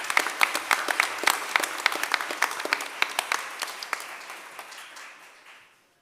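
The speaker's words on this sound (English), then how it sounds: "So one more big round of applause for Angela Miller" Audience at a school board meeting applauds a staff member being recognized: a burst of distinct claps that holds steady, then thins and tapers off to silence.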